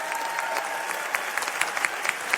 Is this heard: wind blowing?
no